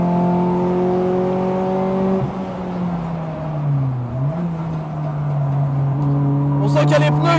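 A low-power race car on road tyres corners on a track with a steady engine drone that dips and shifts pitch midway, then settles, with some clatter near the end.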